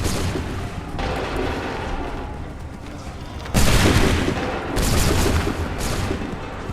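Musket volleys crack out in a colonial battle in Assassin's Creed III, a dense roar of gunfire with a sharp burst near the midpoint and another swell soon after, heavy and close.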